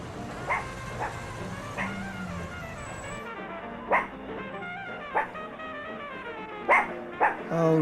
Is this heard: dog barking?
yes